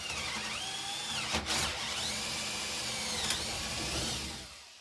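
A power drill set to drill mode whirs steadily and continuously, with brief changes in pitch as it works, then winds down at the end.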